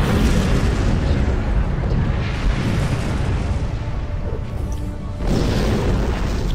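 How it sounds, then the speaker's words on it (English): A Harpang torpedo detonates in a Star Trek Klingon game, giving a loud, dense rumbling blast that rolls on for several seconds, dips briefly, then surges again. "Wait for the Harpang torpedo to detonate."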